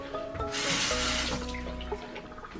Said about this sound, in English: So all I do is to my gallon jug, is give one pump.